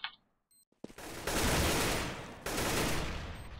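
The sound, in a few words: gunfire in Counter-Strike: Global Offensive match, from a video game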